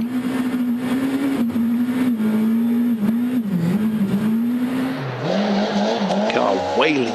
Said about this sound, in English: Car wailing in submission, as you can hear.